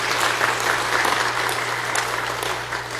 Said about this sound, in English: Let's give Betty and the Lord another round of applause for that.